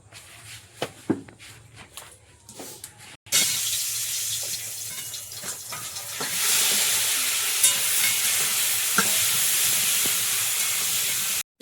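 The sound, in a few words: onion and chilli frying in oil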